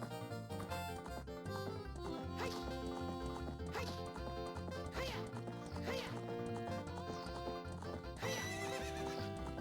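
Horse neighs and clip-clopping hoofbeats in Zelda: Ocarina of Time, with game sound effects rising over steady background game music at a fairly quiet level.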